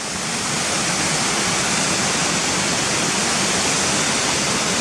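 Waterfalls at Swinnergill rush in a steady, dense roar of falling water that stays loud and constant throughout, with no voices.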